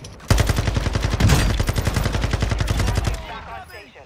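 A minigun fires in a video game on Ashika Island: a loud, steady, very rapid stream of shots lasting about three seconds, then it cuts off and leaves a fading tail.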